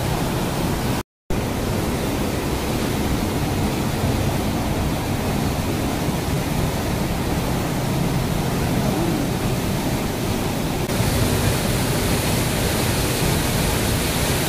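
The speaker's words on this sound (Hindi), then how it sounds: "ये देखिए यहाँ पर वाटरफॉल कितना भयानक रूप देख चुका है" A swollen waterfall after heavy rain roars in a constant, dense wash of rushing water, loud and close, unbroken apart from one brief dropout near the start.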